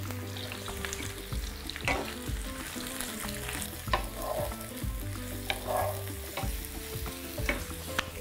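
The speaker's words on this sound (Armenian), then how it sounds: "Հետո հյութը գոլորշիանում է եւ սկսում է արագ տապակվել" Salted mushrooms fry fast in a pan once their juice has cooked off, giving a steady, crackling sizzle with occasional scrapes and knocks of stirring, heard close with no talk over it.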